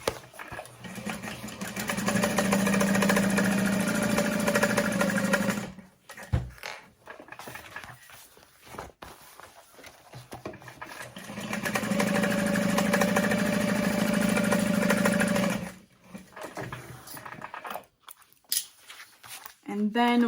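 A sewing machine top stitching around the pocket of a fabric bag, two runs of steady mechanical whirring separated by quieter pauses with handling noises.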